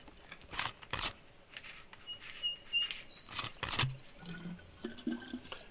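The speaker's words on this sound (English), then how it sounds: "The birds on Livonia are completely different and very vocal compared to Chinars." Birds sing on the Livonia map of the video game DayZ: scattered short chirps and whistles, fairly faint and distant, over soft outdoor ambience with light footsteps and rustling.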